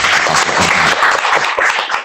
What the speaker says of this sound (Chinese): 最后以热烈的掌声再次感谢我们吉哲老师和几位语坛人